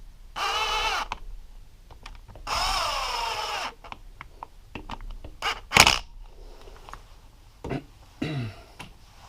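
A power drill runs bolts down on a Yamaha YFZ450R engine during assembly, two distinct whirring bursts followed by scattered clicks and tool handling noises, close and clear with no talking.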